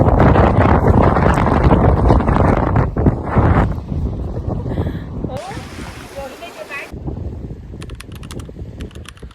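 Strong wind buffets the microphone outdoors in Lanzarote, roaring loudly and unevenly and easing toward the end, with a voice talking over it at moments.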